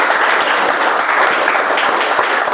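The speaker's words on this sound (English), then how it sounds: "let's have a round of applause for all these role players" Applause from a meeting audience for the role players, steady dense clapping throughout the whole stretch with no pauses, moderately loud and close, with no voices on top.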